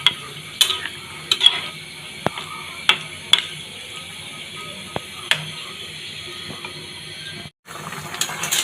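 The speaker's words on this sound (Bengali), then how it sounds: "এবার একটু নাড়াচাড়া করে নিচ্ছি" Mixed vegetable curry being stirred in a pot with broth, a spoon scraping and clinking against the metal in irregular strokes over a soft simmering sizzle, close and fairly quiet.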